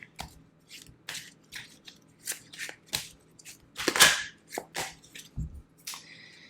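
Tarot cards being shuffled in a series of quick, crisp riffles and snaps, close by, with no talking.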